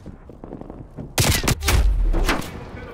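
Assault rifle fire in Call of Duty: Black Ops Cold War multiplayer bursts loud and near in a dense volley, following softer game noise and trailing into a rumbling echo.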